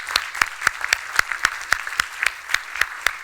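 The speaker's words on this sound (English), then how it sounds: "Please give a warm applause for Idil and Wouter." Lecture audience applauding speakers Idil and Wouter, though only a few hands sound: sharp, regular claps about four per second, close and distinct rather than a crowd wash.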